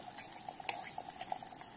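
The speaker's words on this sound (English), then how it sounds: "I love that sizzle." Garlic butter and hash browns sizzle in a pan at a riverside campground breakfast, a steady faint crackle with scattered pops and ticks close by and no talk.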